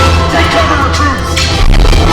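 A loud blast rings out on the Rise of the Resistance ride, a heavy, boomy burst of noise layered over the ride's rumbling soundtrack.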